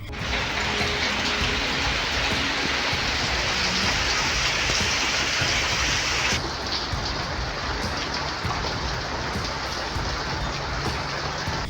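Heavy monsoon rain pours steadily in Devgad, a dense, continuous roar of drops hammering surfaces, loud and unbroken throughout, easing slightly in brightness partway through but never letting up.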